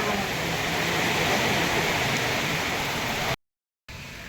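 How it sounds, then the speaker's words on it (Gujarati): Dense, steady roar of heavy rain pouring down close by, a constant wash of noise that cuts off abruptly near the end. "હવે શું સમજાય, વરસાદ ફૂલ ચાલુ થઈ ગયો."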